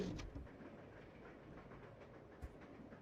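A train rolls along in the video game Resident Evil 0, giving a steady, muffled low rumble with faint rail clatter and a couple of soft knocks, quiet and continuous throughout.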